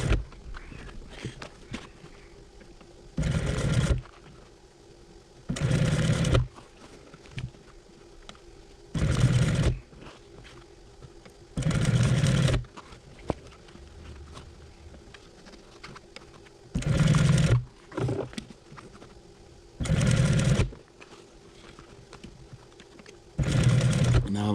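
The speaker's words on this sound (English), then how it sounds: "you can see the actual sewing machine in action." A sewing machine runs in short bursts of rapid stitching, several times in a row, with quiet pauses between each burst.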